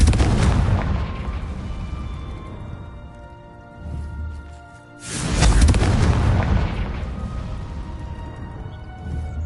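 The Confringo fire spell goes off in the Hogwarts Legacy game with a heavy booming blast and rumble, then a second louder burst follows after a brief lull, close and loud.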